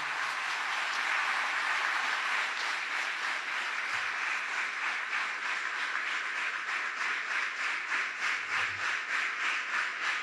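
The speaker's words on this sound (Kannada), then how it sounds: "ಶ್ರೀಯುತ ನಿತಿನ್ ಸರ್ ಇವರನ್ನ ಜೋರಾದ ಚಪ್ಪಾಳೆ ಮೂಲಕ ವೇದಿಕೆಗೆ ಆಹ್ವಾನಿಸ್ತಾ ಇದ್ದೇವೆ." Dense, steady applause fills a large hall as an audience at a college inauguration ceremony welcomes a guest to the stage, loud and continuous for about ten seconds with no talking.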